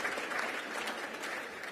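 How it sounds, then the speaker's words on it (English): A brief, steady round of applause from an audience at a business association's annual meeting, welcoming a state representative, with even clapping throughout and no speech over it. "Representative, round of applause for Representative."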